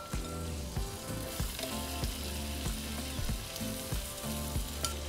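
Shrimp laid in a single layer sizzle steadily in melted butter and olive oil for a creamy Cajun shrimp pasta, a dense, close, continuous frying crackle with faint low clinks underneath and no talking.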